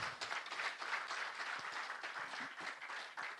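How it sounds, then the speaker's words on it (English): Audience applause at a closing ceremony of a general conference, a faint, steady spread of many hands clapping together across the whole stretch, with no talk. "Let's give Madam Director another round of applause."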